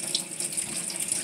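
Tap water running and splashing through hair during a loc wash, a steady close hiss with small irregular splashes.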